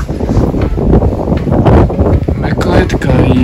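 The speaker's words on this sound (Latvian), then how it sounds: "te baigais vējš" Loud, blustery wind batters the microphone in a constant roar, with a voice speaking briefly beneath it.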